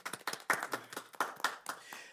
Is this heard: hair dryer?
no